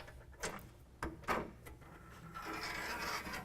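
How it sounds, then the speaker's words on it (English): A clamp plate for a Patriot Stealth tonneau cover slides down a truck's deck rail, making a few quick scrapes followed by a longer steady grinding slide, close and quiet with no talk. "we're going to slide it down the deck rail system"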